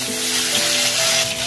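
Cumin and spices hitting hot oil, a loud, close, continuous sizzle that stays bright and even for the whole short burst.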